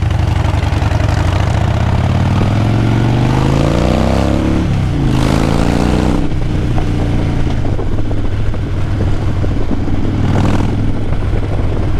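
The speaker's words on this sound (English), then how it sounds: "I'm still out here on the bike." A motorcycle engine runs steadily while riding, loud and close throughout, with its pitch rising and falling as the rider shifts and works the throttle. No one speaks.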